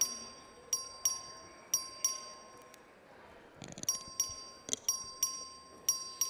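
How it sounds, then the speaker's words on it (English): A vote bell in the Texas House chamber rings as a steady tone beneath a run of bright, clinking chimes repeating at roughly half-second intervals, with a short gap near the middle and faint room murmur. "The clerk will ring the bell."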